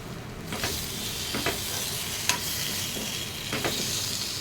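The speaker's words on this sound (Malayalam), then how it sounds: "അതിൻ്റെ പച്ചമണമൊക്കെ ഒന്ന് മാറിക്കഴിയുമ്പോഴേക്കും നമുക്കതിലേക്ക് ആവശ്യമുള്ള തക്കാളി ഇട്ട് കൊടുക്കാം" Tomatoes go into masala frying in a pan for chicken biryani, giving a steady low sizzle with a few soft scraping stirs of a spoon, close by and without talk.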